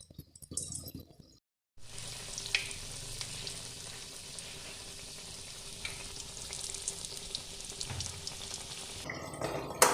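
Dry bread pieces coated in besan batter fry into pakoras in hot oil, a dense continuous close sizzle and bubbling that starts after a short pause and carries on steadily.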